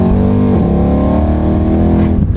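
A loud, close rebuilt Mercedes C63 engine roars at high revs, holding a sustained harmonic drone before dropping off sharply at the end.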